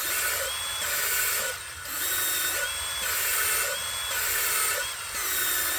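A drill turning an engine valve against its seat during valve lapping, a steady whirring grind that swells and dips in regular cycles as the valve is moved in and out, close and loud with no voices.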